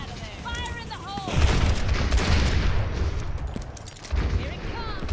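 Dynamite blasts and gunfire from Ashe in the hero shooter video game Overwatch: heavy booming explosions and shots rumbling through a busy battle, with chirpy ability sounds and voice lines mixed in.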